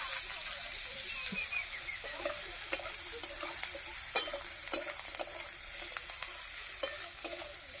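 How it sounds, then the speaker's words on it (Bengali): Potatoes and eggplant are stirred and fried in a pan, giving a soft continuous sizzle with scattered scraping and clicking of the spatula, quiet and close. "আলু আর বেগুনটা একটু নাড়াচাড়া করে ভেজে নিচ্ছে"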